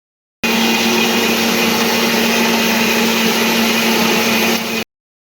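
A mixer grinder runs steadily, grinding spice paste for a Kerala fish curry. It gives a loud, continuous motor whine with a whirring churn that holds for about four seconds and then stops abruptly.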